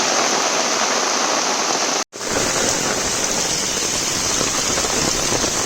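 A torrential monsoon downpour in rural Konkan, a loud continuous wash of rain cut by one abrupt brief dropout before the steady roar resumes, no voices.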